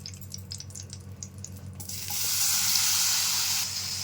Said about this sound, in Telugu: ఇందులోనే టమాటాలు వేసి మగ్గించుకుందాం.